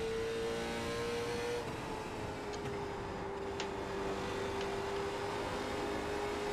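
Late model stock race car engine in the iRacing sim, a steady sustained drone holding near-constant pitch with a slight dip partway through, fairly quiet and unbroken.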